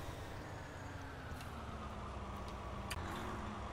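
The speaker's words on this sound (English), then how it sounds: "Our grain truck has arrived." In Farming Simulator 19, a grain truck arrives with a steady low engine drone running throughout, joined by a few faint clicks.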